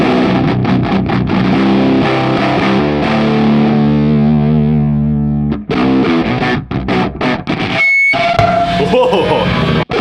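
Electric guitar tuned to drop B, played through a ZVEX Fuzz Factory fuzz pedal: loud, heavily distorted chords sustain and decay into a sputtering, gated fuzz with bursts and a squealing tone near the end.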